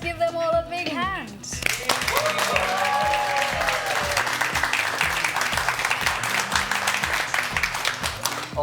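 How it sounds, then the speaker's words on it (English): A studio audience gives extended applause, steady and loud, after a short stretch of talk at the start, with a rhythmic music beat running underneath. "I know what that sound of extended applause means."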